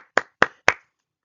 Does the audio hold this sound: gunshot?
no